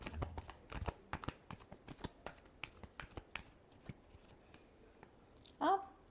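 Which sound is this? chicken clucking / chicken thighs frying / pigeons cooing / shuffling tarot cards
shuffling tarot cards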